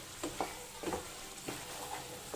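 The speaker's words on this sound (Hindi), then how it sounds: "इसे सौटे कर लेंगे अपन। अच्छे से मिक्स कर लिए अपन।" Black chana sautéing in a pan with spices while being stirred, a steady low sizzle under a few soft scraping strokes of the spoon at irregular intervals, close and fairly quiet with no talk.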